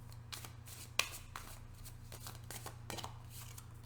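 Tarot cards riffle and flick in quick bursts over a steady low hum, a close papery shuffling that stops and starts several times.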